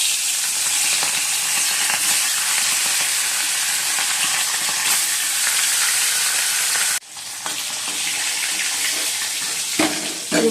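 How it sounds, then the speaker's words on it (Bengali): Hilsa fish fry lightly in hot oil in a wok, a loud, close, continuous sizzle and crackle that drops briefly partway through and then carries on. "মাছগুলো একটু হালকা হালকা করে ভাজছি, ইলিশ মাছ তো হালকা করে ভাজে"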